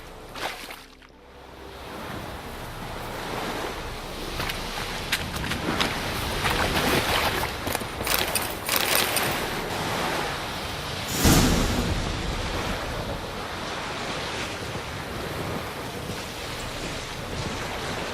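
A rowing boat crosses a lake in The Witcher 3 video game, with a steady wash of water, splashing and wind running throughout, fairly loud and close, with no talk over it.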